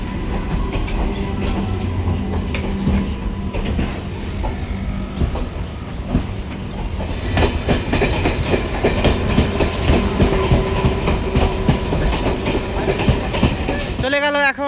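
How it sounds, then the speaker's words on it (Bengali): A train pulls out of Lalgola railway station in Murshidabad, a steady loud rumble with clickety-clack of wheels building over the stretch and a brief metallic squeal near the end; faint voices mix in. "চলে গেল এখন ট্রেন লালগোলা স্টেশন থেকে।"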